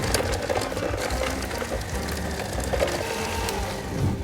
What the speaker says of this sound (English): Into the bowl of the mixer, I'm gonna add a bunch of room temperature butter. Mix this on medium-low speed.